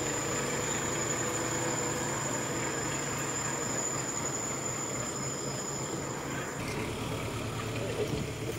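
A tractor working at a temporary cremation site under preparation: a steady, moderately distant diesel engine drone with a constant rumble and faint high whine, unbroken for several seconds with a slight shift partway through.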